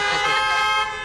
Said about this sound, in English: I've never loved honking before, but now I love it.